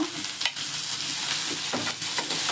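Finely chopped tomatoes sautéing in a pan for egg bhurji, a close, steady sizzle broken by a few scraping stirs of the spatula, with no voices.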